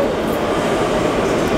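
New York City subway train in a station, a loud, close, continuous rumble and rattle filling the whole stretch without pause.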